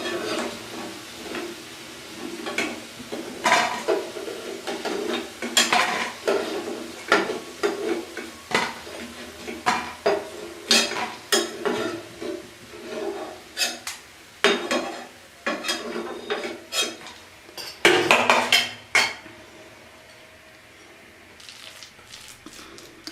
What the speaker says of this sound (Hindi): अब मैं सारे पकौड़े बाहर निकाल लूँगी।